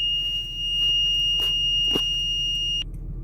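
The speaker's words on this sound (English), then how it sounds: "as you can hear, the jacks down alarm has stopped sounding" RV jacks-down alarm sounding as the landing gear retracts, a loud, piercing, steady electronic tone that holds, then cuts off, with a few brief clunks and knocks of the gear under it.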